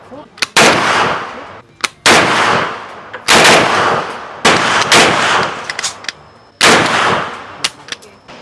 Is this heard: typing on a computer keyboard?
no